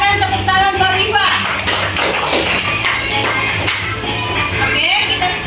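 Classroom of sixth-grade students clapping for a classmate, Afifah, after a correct answer, a dense patter of many hands alongside voices and children's chatter throughout.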